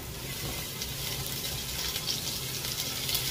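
Chopped onion sautéing in a pan for a spinach and raisin dish, a steady, soft sizzle with faint stirring, no voices over it.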